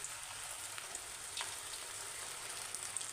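Cauliflower pieces for gobi 65 fry in hot oil, giving a faint, steady crackling sizzle with small pops, close by and without talk.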